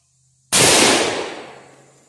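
A single loud rifle shot from a rifle fed by a STANAG magazine cracks out sharply after a brief silence, then its echo tails off slowly with no follow-up round.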